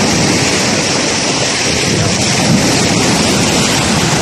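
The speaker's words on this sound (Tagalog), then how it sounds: "ang arangkada sa alon." Ocean surf surges at Puerto-Mad Beach in a steady, roaring wash of broadband noise, loud and continuous with wind buffeting, no voices.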